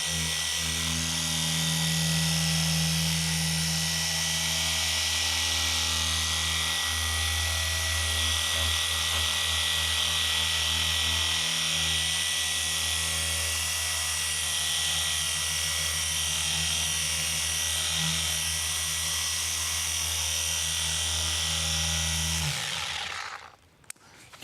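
A Rupes cordless polisher works on a car's paint with a sustained, even whine and low motor hum held steady for over twenty seconds, then winds down and stops abruptly near the end.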